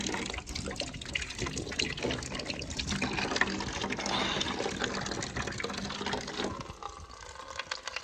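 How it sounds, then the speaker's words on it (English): Fresh well water pours steadily and close by for most of the time, a continuous splashing trickle that thins out near the end. "Nice fresh well water."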